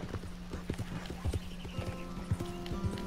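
Horse hooves clip-clop in a steady, uneven walking rhythm in Red Dead Redemption 2, close and clear over a low hum, with the horse snorting faintly.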